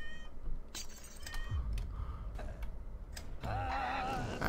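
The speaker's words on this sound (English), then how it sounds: "Cats, cats, give me my cats." Cartoonish cat meows ring out in the video game Fowl Space, ending in a wavering drawn-out mew. Quick clicks and game effects sound alongside.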